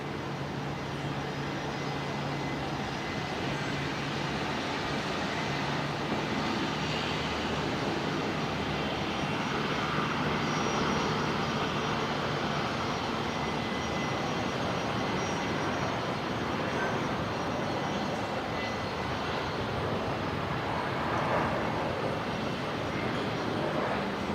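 A steady, distant Qantas airliner engine roar carries across Brisbane Airport, a broad continuous rumble holding at an even level throughout with no voices.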